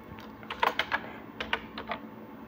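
Typing on a computer keyboard while working in Microsoft Word 2010: two short bursts of several crisp, close key presses separated by a brief pause, with no talking.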